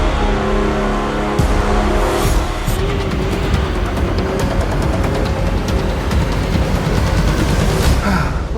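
Falcon car engine pulling hard on a test drive, a loud continuous roar rising through the gears with shifts breaking the tone, heard from inside the car.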